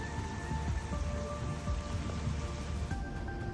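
Heavy rain from a fast-moving storm with gusty winds in the San Francisco Bay Area, California, pouring steadily as a dense, even hiss with patter on surfaces and no voices.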